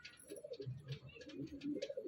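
Pigeons, including a Punjabi male, coo softly and repeatedly close by, a low rolling burble with faint rustling behind it.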